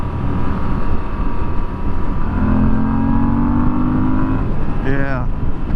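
A Moto Guzzi V7 Special motorcycle engine hums steadily and loud at close range, then its pitch drops as it shifts down a gear, with a brief rising whine near the end.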